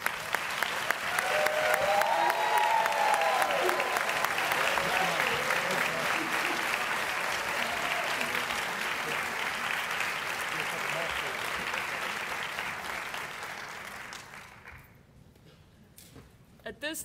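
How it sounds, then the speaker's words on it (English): A hall audience at a graduates of distinction ceremony applauds in a long, dense wash of clapping that holds steady, thins gradually, and dies down to a few scattered claps near the end, with some voices underneath. "would all the graduates of distinction from both schools please stand for another round of applause"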